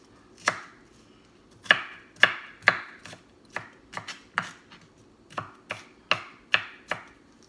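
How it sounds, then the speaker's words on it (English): A knife coarsely chops an elephant garlic clove, about fourteen crisp, close thuds landing in an uneven rhythm with short pauses between some strokes. "a big elephant clove of garlic, which I coarsely cut"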